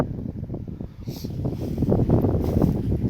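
Wind blowing outdoors on a cold day of around 30 degrees, a low, rumbling gusty roar against the microphone that builds toward the end, with no voices.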